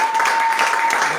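A church congregation applauds during a sermon, giving a steady, dense wash of clapping from many hands with no breaks, and a voice is faintly heard across it.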